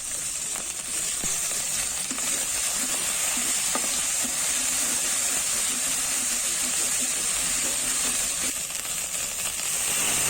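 Spices with cumin paste frying for chicken curry, a loud continuous sizzle and hiss with stirring scrapes throughout, close and steady with no talk.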